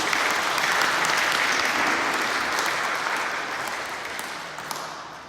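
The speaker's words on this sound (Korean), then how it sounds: "다시 한번 축하의 박수를 해주시면 좋겠습니다." A church congregation at a Sunday worship service claps in congratulation for a newly married couple, a loud, dense wash of applause that slowly tapers.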